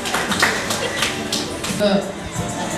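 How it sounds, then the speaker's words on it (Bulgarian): Brief clapping from an audience at a Miss Mol Vidin children's pageant greets a participant, a short burst of hand claps mixed with speech. "Аплодисменти за нашия много здравожив"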